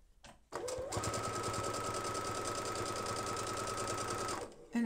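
A sewing machine stitches mini piping cord onto quilt binding, its steady rapid whir running nonstop for about four seconds after a brief start, close and even, with no talking over it.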